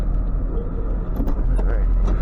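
A tow vehicle pulls away towing a 1998 Chevy 1500 on chains, with a close, steady low engine rumble throughout and faint voices mixed in.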